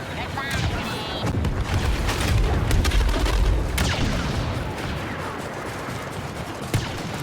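Grenade blast in Star Wars Battlefront II, a heavy boom with a low rumble rolling through a noisy battlefield of gunfire, followed by a sharp crack near the end.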